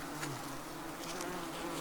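Yellow jacket wasps buzzing faintly around an opened nest being taken apart, a soft continuous insect drone with no talk.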